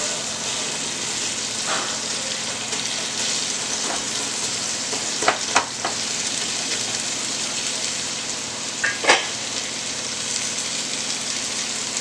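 Tomatoes frying in oil for a chicken dum biryani, a steady broad crackling sizzle throughout with a few sharper clinks or stirs near the middle and end, no talk.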